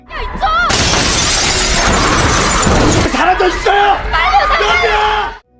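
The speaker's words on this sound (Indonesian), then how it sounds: "kaca jendela yang menahan para zombie itu akhirnya pecah" Window glass holding back zombies on a train shatters in a zombie film, a loud sustained crash and spray of breaking glass with roaring bellows and frantic yells around it, then shouting voices and panicked crowd noise.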